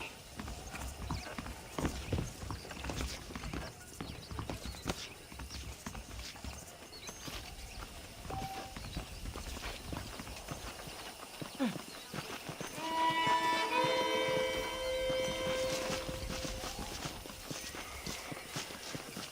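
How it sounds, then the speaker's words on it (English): Horse hooves clip-clop in a steady walking rhythm in Red Dead Redemption, with some game music tones and a brief whinny-like sound later on. "The horses are saddled up over here."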